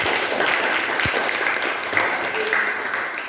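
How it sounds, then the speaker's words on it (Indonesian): Classroom applause from students during a maths lesson, a steady wash of clapping with a faint voice or two mixed in, moderately loud and continuous. "Bagus, kasih tepuk tangan"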